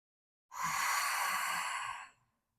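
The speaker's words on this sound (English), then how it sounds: "Take 3 grounding breaths." One deep grounding breath, a slow, full inhale flowing into a long, audible exhale, close and alone for about a second and a half.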